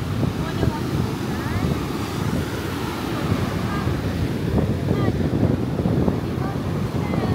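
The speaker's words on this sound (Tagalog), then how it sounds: "Oh, so windy." Strong beach wind buffets the microphone in a constant low roar, with surf washing behind it throughout.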